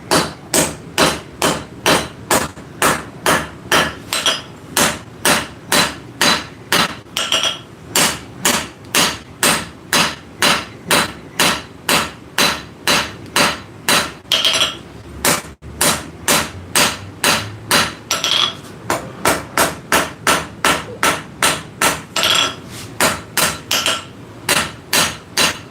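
Hot metal hammered on an anvil in a live workshop forging session, a long run of loud, sharp strikes landing in a steady, fast rhythm, with a few brief pauses between bursts.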